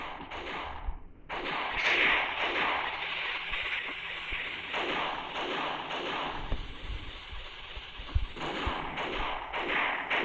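Machine gun fire in the Mini Militia mobile game: dense, rapid bursts of gunshots with thuds, continuous and fairly loud for the whole stretch.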